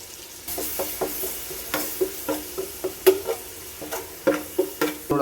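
Ginger garlic paste sautés in a pan for mutton rice over high flame, a steady sizzle broken by repeated stirring scrapes and light taps of the spoon, close and fairly loud with no talking.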